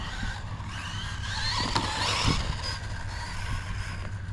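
A Rlaarlo X12s radio-controlled car with a reinforced Rogue 1 turret runs on the SAM68 outdoor circuit at Tagolsheim, its steady high electric whine and tyre noise rising slightly as it passes, continuous and moderately close.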